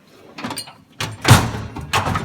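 A tool chest drawer is pulled open in a shop, giving a few short sliding rumbles and a louder clunk partway through, followed by another rattling slide, close and fairly loud with no talking.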